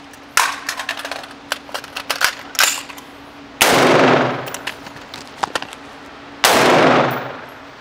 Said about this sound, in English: That first shot was low with the pistol